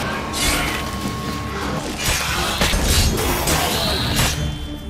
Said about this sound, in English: So the devourer's explosion caused massive damage on the ghouls.